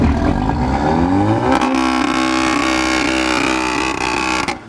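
An engine revs hard at a VAG car show, a loud sustained roar that climbs in pitch, holds steady with a rising whine, then cuts off near the end, with no voices over it.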